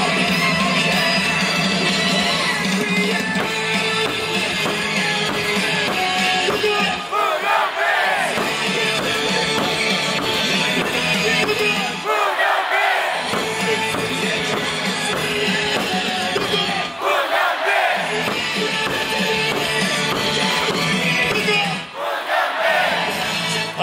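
Hanwha Eagles baseball fans at Jamsil stadium chant and cheer in unison, a loud, continuous massed crowd roar with rhythmic sung chants that swell and dip in waves across the whole stretch.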